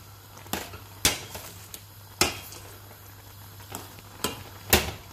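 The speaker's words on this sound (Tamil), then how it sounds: "நாங்கள் ஒருக்கா கிளறி விடலாம்" A utensil stirring a green tomato and eggplant curry scrapes and knocks against the pot in several sharp clinks spread across a few seconds, with a steady low hum beneath and no talking.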